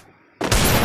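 A gunshot in a first-person shooter video game, a sudden loud, close blast that cuts in sharply after a brief quiet moment and rings on.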